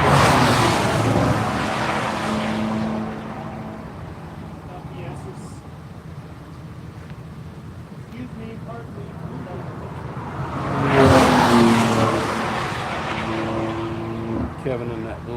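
A Porsche race car on the circuit at Virginia International Raceway approaches, swells to a loud roaring pass and fades, with engine tones sweeping through, while a commentator talks over the track noise.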